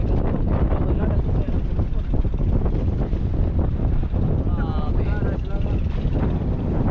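Strong wind at sea buffets the microphone in a steady, loud roar, with a few voices speaking intermittently underneath.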